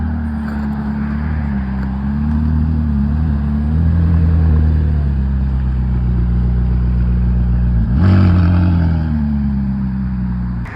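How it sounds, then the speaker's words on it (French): A modified McLaren Senna supercar engine idling with a deep, loud, close rumble, swelling into a brief rev blip partway through before settling back to a steady drone. "on est sur sûrement le gros spot de la vidéo, cette McLaren Senna"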